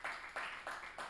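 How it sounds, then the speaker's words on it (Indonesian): A church congregation claps in praise, a faint, sparse set of four evenly spaced claps in under two seconds, with no voices. "Tepuk tangan buat Tuhan Yesus."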